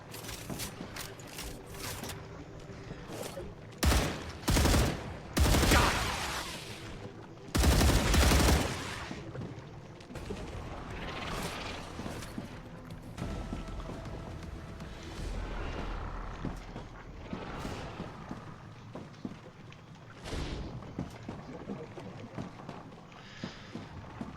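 Enemy mortar fire and gunfire in the video game StarRupture, loud bursts of rapid shots and heavy blasts in clusters early on, then continuing scattered firing and explosions at a lower level.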